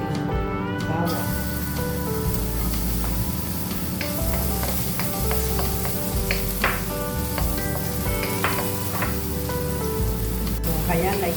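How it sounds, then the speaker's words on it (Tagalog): Onions and garlic sauté in a frying pan with a steady, close sizzle and scattered crackles and stirring clicks, while a voice talks over the cooking. "At ating igigisa ang ating mga sibuyas. So, ayan natin lang ihulog ang ating bawang."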